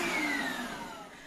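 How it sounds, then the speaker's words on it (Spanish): A handheld vacuum cleaner runs steadily and close, its motor whine sliding slightly lower in pitch as it settles into a continuous drone. "aparte es una aspiradora de mano"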